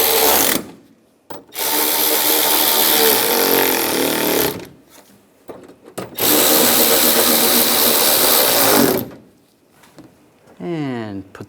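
A power tool drives fasteners on a Ram 1500 antenna base in several loud whirring bursts with short pauses between them, close by.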